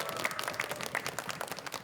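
An audience applauds a school dance performance of the Rantak Musi creative dance by SMA Muhammadiyah 1 Palembang at a televised event. The clapping is dense, even and sustained from a crowd at a moderate distance.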